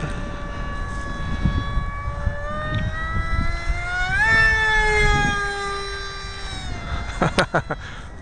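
A high-pitched electric motor, a Turnigy helicopter motor, whines steadily as a small FF-15 foam model jet flies, its pitch rising and falling as it passes, with a few sharp clicks near the end.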